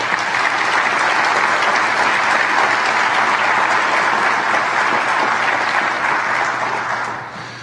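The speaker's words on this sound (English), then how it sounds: "Can we have a round of applause for them?" An audience applauds veterans at a Wall of Honor dedication ceremony, a steady, dense wash of clapping from a large crowd that holds loud for about seven seconds before tapering off at the end.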